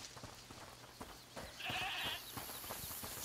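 A screaming goat bleating in the video game A Plague Tale: Requiem, a faint, strained cry rising briefly over quiet ambient game sound.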